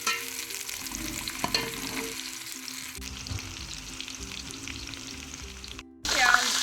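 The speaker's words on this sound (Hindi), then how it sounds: "ये हमारे पास जो कटी हुई एक प्याज है वो हमने इसके अंदर डाल दी है। तो इसको हम गोल्डन करते हैं, गोल्डन ब्राउन करेंगे।" Chopped onion fries in hot oil in a pot for chicken yakhni pulao, a close, dense sizzle with stirring scrapes, briefly cutting out before a louder burst of hissing near the end, no talking.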